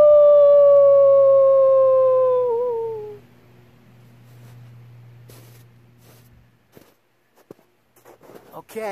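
A man imitates a wolf howl, a loud, long, steady wail with a slight wavering fall that fades out after about three seconds, followed by quiet rustling and a few faint sounds.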